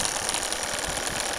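The small oscillating steam engine of the Albatros, a radio-controlled model steamboat, runs with a fast, even, hissing chuff that sounds close and steady, with no talk.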